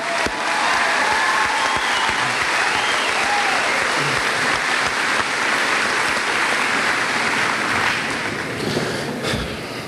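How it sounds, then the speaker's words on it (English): A memorial gathering's audience gives a loud, dense round of applause, many hands clapping steadily throughout and tapering slightly at the close. "Again, another round of applause."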